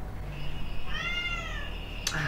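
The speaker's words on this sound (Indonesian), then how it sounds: "Tiba-tiba kucing gue meong-meong tengah malam ngelihat arah ke jendela." A cat meows once at midnight in a drawn-out, wavering call, close by, followed by a short sharp knock; no talking.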